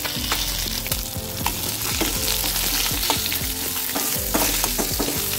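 Fish frying in a pan: dense, steady close sizzling and crackling throughout, with occasional clinks and scrapes of a utensil, no voices.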